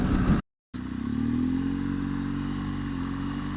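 A BMW R1200GS motorcycle riding on the A3 road, its steady engine drone and wind noise holding loud and close after a brief dropout, with no talk.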